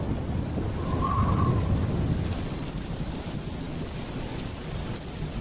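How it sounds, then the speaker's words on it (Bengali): Heavy rain pours steadily outside, a dense, continuous hiss and patter that stays loud and even throughout, with no voices. "বাইরে ঝমঝম করে বৃষ্টি পড়ছে।"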